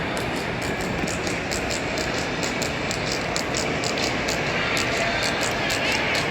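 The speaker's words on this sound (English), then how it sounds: "I made it to DC. This is the train station. DC Union Station." Dense, steady station ambience at DC Union Station: a broad wash of crowd murmur and echoing hall noise with faint repeated ticking overhead, unchanging throughout.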